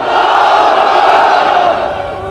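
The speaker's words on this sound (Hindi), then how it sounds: "हाथ उठा कर कहिए नारे तकबीर, नारे तकबीर" A large crowd at a gathering roars the religious slogan Naara-e-Takbeer back in unison, a loud, sustained collective shout that holds for about two seconds and then tails off.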